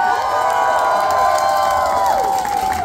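A crowd applauds and cheers for Rifat Rifatović at the opening night of the A.N.F.I.teatar 2024 festival in Kraljevo, a dense, continuous roar of clapping and shouts with high whistling tones running through it.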